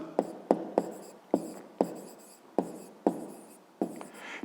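Pen writing on paper during a fifth-grade maths exercise: a series of sharp, close scratching strokes repeating roughly every half second, each fading quickly, with no talk.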